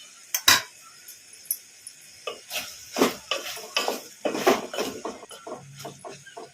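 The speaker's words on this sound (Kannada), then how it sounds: "ಈಗ ಒಂದು ಸಲ ತಟ್ಟೆ ತೆಗೆದು ನೋಡಿ ಕಲಿಸ್ಕೊಂಡ್ಬಿಡೋಣ." Brinjal frying in a pan for gojju as the lid is lifted off and the pieces are stirred: a few sharp metal clanks and scraping clinks of utensil against pan, close and irregular, with no talk.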